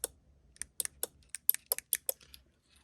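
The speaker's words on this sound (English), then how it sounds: "there's a relay that's clicking on." Sharp, dry clicks from a relay in an animatronic trigger controller come in an irregular run of about a dozen quick snaps, close and quiet against near silence.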